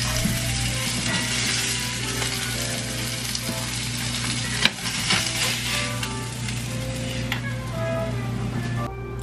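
Salmon fillet sizzling and crackling steadily in a hot pan, a close, continuous fry with a few faint clinks of utensils and brief light stirring.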